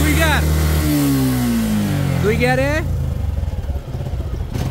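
A Suzuki motorcycle fitted with a racing CDI revs hard, its engine note climbing and dropping as it shifts through the gears, loud and close, with people talking over it.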